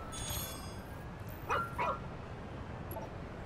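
A robotic dog companion in the video game ReCore gives two short, whining yips over a low, steady game ambience with faint background sounds.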